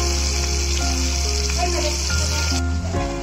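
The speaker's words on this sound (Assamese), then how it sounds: "প্ৰথমতে মাছখিনি এনেকৈ ফ্ৰাই কৰি ল'ব" Fish fries in hot oil, a loud steady sizzle held close throughout, with faint scraping and shifting partway through and no talking.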